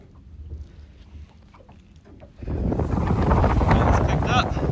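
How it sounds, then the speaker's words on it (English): Wind blowing across a boat on a lake, first a low rumble under light clatter, then rising abruptly into loud, steady broadband buffeting against the microphone. "Wind's picked up."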